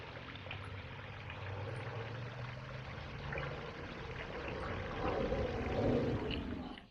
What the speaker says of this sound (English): it's been raining the last few days and there's a bit of a creek behind me